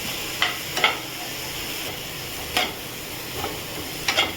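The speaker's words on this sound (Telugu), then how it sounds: "ఓన్లీ బటర్ దాంట్లో బ్రోకర్ వేసేసి ఇట్లా హై ఫ్లేమ్ మీద ఒక five to ten minutes sauce చేయాలి ఇట్లా కలుపుతూనే ఉండాలి నాన్ స్టాప్గా" Broccoli sautéing in butter over a high flame crackles with a steady sizzle while a spoon scrapes through it in several separate stirring strokes, close and fairly loud.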